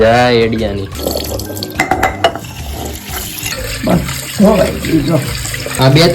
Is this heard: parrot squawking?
no